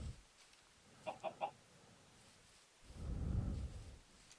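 A chicken in Minecraft, the survival video game, gives three quick clucks in a row at moderate volume, followed by a louder low rumbling burst from the game world.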